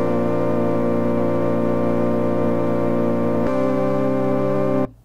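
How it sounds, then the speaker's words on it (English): An organ part from a track holds a sustained, steady chord, shifts to a new chord partway through, then cuts off abruptly. "Later on, I add this one, which is a organ"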